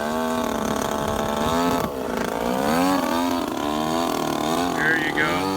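An RC YAK54 3D aerobatic airplane's motor and propeller whine loudly as it hangs on the prop. The buzzing pitch swoops up and down with throttle changes, and someone talks over the continuous engine noise.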